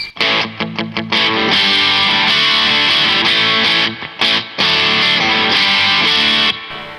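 A Harley Benton ST-JAMster electric guitar with overdrive from its built-in amp, loud crunchy chords, a few quick choppy stabs at first and then longer sustained strums with short breaks between them, no talking.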